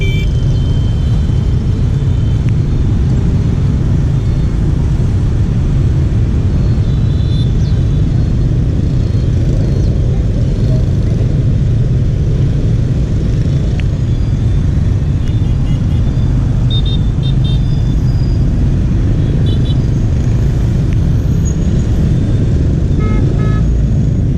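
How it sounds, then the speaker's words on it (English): Dense street traffic in Ho Chi Minh City, swarming with cars and motorbikes, forming a loud, continuous rumble of engines with scattered short horn toots rising above it throughout. "the traffic here is nuts"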